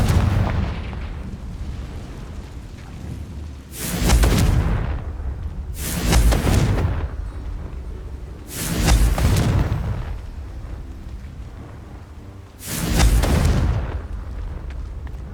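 Four heavy booming explosions from the Confringo fire spell in Hogwarts Legacy, spaced a few seconds apart, each a loud broadband burst that decays into a rumbling tail, with low ambient game noise between them.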